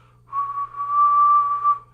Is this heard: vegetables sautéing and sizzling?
no